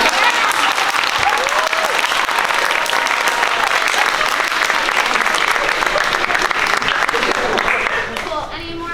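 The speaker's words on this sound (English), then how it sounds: "Can we get a round of applause for Matt's voice?" Loud, dense applause from an audience at a theatre talkback fills the whole stretch, steady throughout before thinning slightly at the very end, with some voices mixed in.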